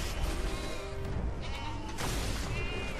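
Sheep bleat in the Skylanders Giants video game, several wavering cries overlapping with game music and effects, fairly loud and continuous, with no talking.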